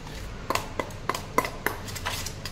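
A spoon clinks against a bowl while curd, ginger-garlic paste and turmeric are stirred into a marinade, a series of light, irregular metallic taps close by with no talking.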